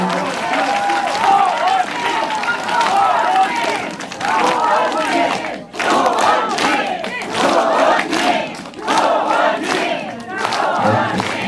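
A large crowd at a book launch talk show in South Korea claps and cheers loudly and steadily, with shouts rising and falling in waves and a brief dip midway.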